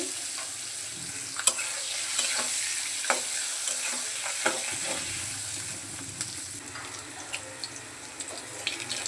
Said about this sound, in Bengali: এখন মাছগুলো ভাজবো কড়াইতে তেল দিয়ে দিচ্ছি